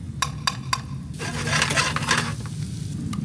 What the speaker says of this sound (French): tu viens mettre tes oignons